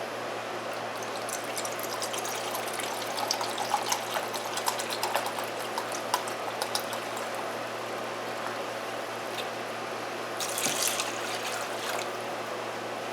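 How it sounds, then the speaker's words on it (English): White vinegar pours steadily into a pot for a pickling brine for banana pepper rings, a continuous close trickling stream lasting several seconds with no voices. "we're going to put in 2 cups of white vinegar"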